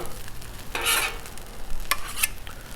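Fried rice sizzling on a Blackstone griddle while metal spatulas scrape and chop it, with two brief bursts of louder scraping and hissing over a steady close-up fry.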